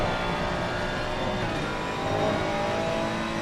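Ferrari GT race cars battling for position at Spa in a racing video game, a steady loud engine drone with rising revs running throughout, no talk.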